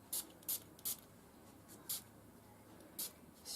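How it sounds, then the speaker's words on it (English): A perfume atomizer sprays onto cotton balls in a series of short, sharp hissing puffs, about six quick bursts at irregular intervals, close and distinct over a quiet room hum. "spray them with some perfume"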